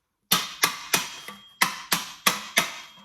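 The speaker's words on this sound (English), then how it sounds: "you can use your ball peen" A ball peen hammer strikes a metal license plate eight times at a steady pace, each hit bright and ringing, close by with no talking.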